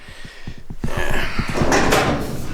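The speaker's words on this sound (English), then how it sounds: "So when I open the door now" Door of a 1974 Dodge Challenger under restoration swinging open after panel-gap adjustment, a run of close clicks and a broad rustling swell with no binding, heard alone at moderate loudness.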